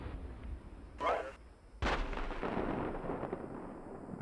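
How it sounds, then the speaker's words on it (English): Distant gunfire east of Kindu: two muffled, booming bursts about a second apart, the second one rolling on into a long, rumbling tail over a faint background. "I'm hearing main gunfire coming from the east of Kindu."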